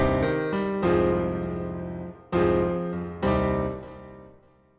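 Sustained synth chords in an afrobeats production struck several times, each swelling and ringing out with a long reverberant tail and delay feedback echoes that slowly decay.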